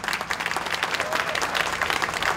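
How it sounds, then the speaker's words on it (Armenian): Steady applause from an audience at an Armenian church community gathering honoring Mrs. Vardukyan, dense continuous clapping filling the whole moment at moderate volume. "հատուկ ծափահարությունը Դիգին Վարդուկյանին"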